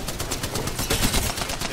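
Rapid gunfire from the Apex Legends video game, a dense burst of automatic shots rattling continuously and loudly for the whole moment with no talk over it.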